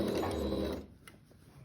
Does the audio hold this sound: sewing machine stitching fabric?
yes